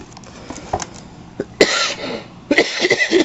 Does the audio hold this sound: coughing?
yes